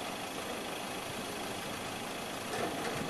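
The Isuzu four-cylinder, four-stroke 159.5-horsepower diesel engine of a Sumitomo SH210 excavator idles at a distance, a faint steady rumble that stays even throughout.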